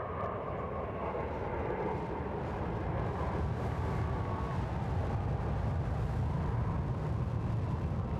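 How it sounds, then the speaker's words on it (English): Formation of Sukhoi fighter jets flying past at a Republic Day air show fly-past, a steady loud broadband jet roar sustained throughout without clear onset or fade. "Sukhoi formation."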